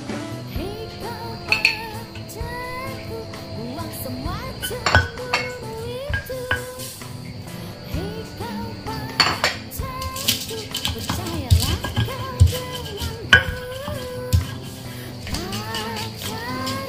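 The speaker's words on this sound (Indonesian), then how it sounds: "Kak Nopa langsung menggiling bumbu untuk tumis sayur genjernya ya" Spices being ground for stir-fried genjer, with repeated clinks and knocks of stone and utensils in an uneven rhythm, a steady background hum and occasional voices.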